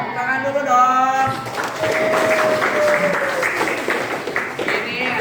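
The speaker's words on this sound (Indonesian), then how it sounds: "Tepuk tangan dulu dong." Students in a classroom break into applause right after a short burst of talking, and the dense, even clapping carries on for several seconds at fairly close range.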